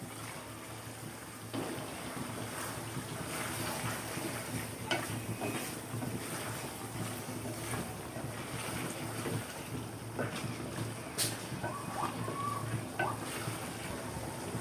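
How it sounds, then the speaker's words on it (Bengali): Tengra fish go into a hot frying pan with green chilli and a large tomato, raising a steady, dense sizzle with scattered crackles and pops that continues evenly, close by and without talk. "এখন ট্যাংরা মাছগুলো দিয়ে দিব।"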